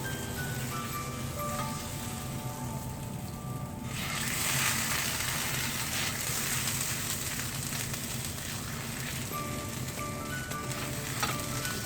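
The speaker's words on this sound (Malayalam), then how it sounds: "കുറച്ച് മാവെടുത്ത് കല്ലിലോട്ട് വെച്ച് വറുത്തുക." Wheat flour batter for ottada fries on a hot, oiled stone griddle, giving a steady close sizzle for about twelve seconds that swells slightly louder partway through, with no talking.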